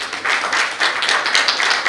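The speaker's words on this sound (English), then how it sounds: "let's give them a great round of applause." Audience applause at a Write Circle literary gathering in Raipur, a dense wash of indoor clapping that swells in waves and holds steady for about two seconds, with no talk over it.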